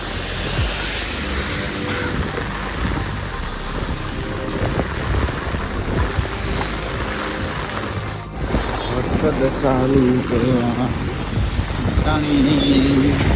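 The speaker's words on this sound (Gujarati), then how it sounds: "તો બહુ હેવી વરસાદ ચાલુ થઈ ગયો હતો" Heavy monsoon rain pours steadily outdoors near a temple, forming a dense, continuous hiss and patter with some wind buffeting, while voices talk over it in the latter part.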